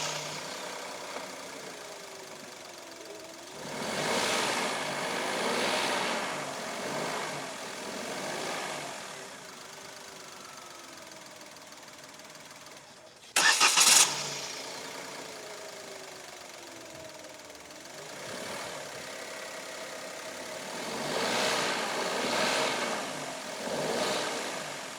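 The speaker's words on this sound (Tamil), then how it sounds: "என்ஜினோட ரிஃபைன்மெண்ட் லெவல்ஸ் எப்படி இருக்குன்னு இப்போ பார்க்கலாம்." A 2025 Maruti Alto K10 VXI small petrol hatchback engine idles with a steady, faint mechanical hum. A sharp, loud burst partway through marks the engine starting, and the quiet idle resumes afterward.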